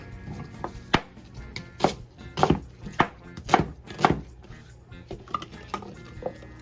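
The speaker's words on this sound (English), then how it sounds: "I'm gonna just take this onion, chop it up rough, and then put it inside the cup" An onion chopped roughly with a knife on a board while cooking a deep dish pizza meat sauce: a close, irregular series of sharp knocks and crisp cuts, with no talking.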